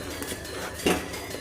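A spoon scrapes and clinks against a pan while paneer masala is stirred slowly over a low flame, soft repeated scraping with one louder metallic knock near the middle.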